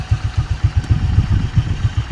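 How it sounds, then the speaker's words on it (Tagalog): A Honda Click V2 scooter engine idles up close, a quick, even train of low putting pulses with slight unevenness and no talk. "okay so pakinggan nyo po mabuti yung anda ko ng makina natin"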